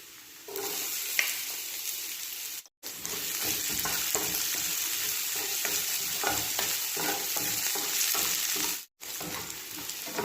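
Onion sautés for ginataang manok in a pan, a steady loud sizzle with stirring scrapes throughout, briefly cutting out twice, with no voices.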